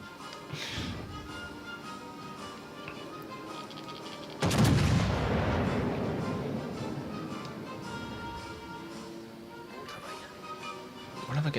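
Heavy naval gunfire in World of Warships: Legends, with 16-inch guns firing on an Amalfi cruiser at range: one loud, deep boom hits midway and rolls on over a dense battle din, with a smaller blast near the end.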